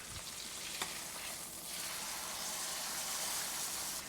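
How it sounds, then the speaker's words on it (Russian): Meat browning in a frying pan gives a steady, dense sizzle and crackle that holds evenly throughout at moderate level, with no talking. "нужно немного обжарить со всех сторон"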